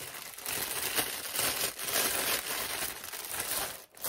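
A plastic bag crinkles and rustles continuously as a decorative wreath with violet flowers is handled, close and moderately loud, with no talking.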